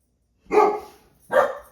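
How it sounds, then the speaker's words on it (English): A young dog gives two loud, close barks about a second apart, each short and sharp, with silence before and between. "So she's now just learned to bark as well"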